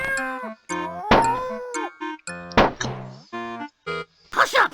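A cartoon cat in the adventure game King's Quest VII meows repeatedly in short, loud, whiny yowls mixed with thumps and a swooshing effect near the end, close and clear against game silence.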